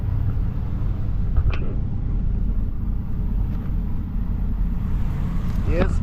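A 1971 Chevy Malibu with a new carburetor and fresh oil rumbles steadily while driving, a loud low engine drone throughout with a few faint voices over it.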